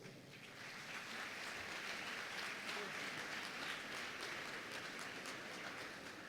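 An audience at an event applauds to welcome speaker Sandra Gutiérrez, with dense, sustained clapping heard from a distance throughout, fairly faint and steady.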